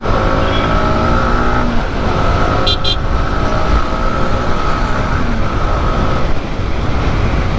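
Road traffic on a busy Chennai street heard from a moving motorcycle, a steady loud roar of engines and wind with a brief high horn-like tone near the middle.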